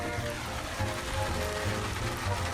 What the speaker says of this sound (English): we got a good little rain going here.